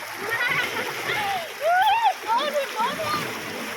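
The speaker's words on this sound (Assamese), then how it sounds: "পানী খুব ধুনীয়াকৈ বৈ গৈছে" Stream water in Assam flows and splashes continuously at close range, with a voice speaking over the rushing water.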